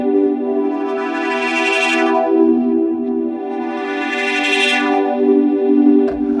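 Modal Argon8 synthesizer holding a sustained, buzzy tone, with a random LFO routed to its distortion so the grit and brightness swell and fade unevenly in two slow waves.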